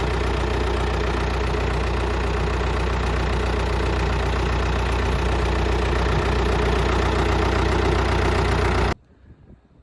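A 5000 farm tractor runs steadily at a low idle with a deep, even engine drone that continues for about nine seconds and then cuts off abruptly.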